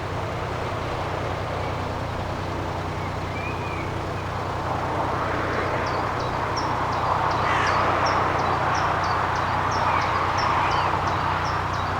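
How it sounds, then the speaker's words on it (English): Repeated short bird chirps ring out over a steady low motorway traffic rumble beside a canal near Braunston, the calls growing more frequent in the second half. "Got some lovely bird song again."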